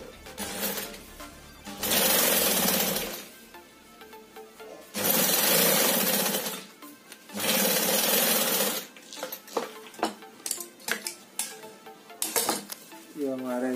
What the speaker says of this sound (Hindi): यहाँ सिल देंगे, ये ऐसे यहाँ एक सिलाई मार देंगे इसमें।